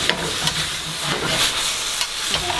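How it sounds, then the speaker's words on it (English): Salted eggplant pieces are stirred in a hot wok for a Thai stir fry with pork and basil, giving a steady loud sizzle with a few scraping spatula strokes over a short stretch, without any voices. "And now give them the stir."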